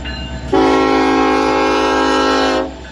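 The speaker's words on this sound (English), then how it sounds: "Loud train. Fair warning." A passing train sounds a loud, sustained horn blast lasting about two seconds over a rumbling rail background, very close and overpowering, then cutting off sharply.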